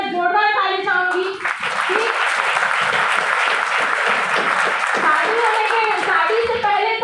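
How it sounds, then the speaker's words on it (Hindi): Loud, dense clapping erupts from an audience at a training event after someone speaking, breaking in about a second in and filling the rest, with a voice heard at the start and faint speech beneath the applause. "तो आज मैं अपने हस्बैंड के लिए मैं जोरदार ताली चाहूंगी।"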